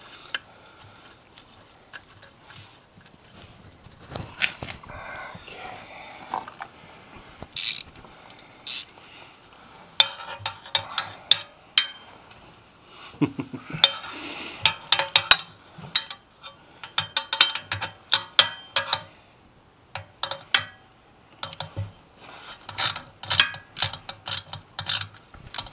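Ratchet with a 12 mm long deep socket works the exhaust bolts on a Yamaha FZ6R motorcycle, giving bursts of quick close clicking with pauses between them; no talking.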